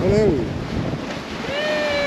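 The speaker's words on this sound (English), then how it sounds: "These little houses here are getting pounded on the coast. It's a bit windy." Strong storm wind buffets the microphone while waves pound the coast, a loud continuous roar under a brief spoken greeting.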